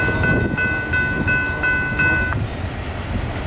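A loaded Norfolk Southern unit coal train rolls past close by with a steady heavy rumble and rattle of cars, while a horn tone sounds in short repeated blasts over the roar.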